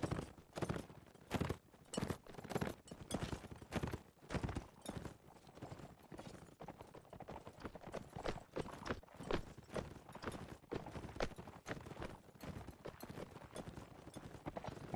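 Horses clip-clop across the ground in a video game battle between Black Shields and West Knights, a steady run of close, repeated hoof strikes continuing throughout with no talk.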